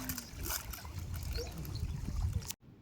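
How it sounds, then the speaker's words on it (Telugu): Steady broadband rush of water flowing at a dam, continuous and fairly close for over two seconds before cutting off abruptly near the end. "వాటర్ సౌండ్ చూసారా ఎంత బాగా వస్తుందో"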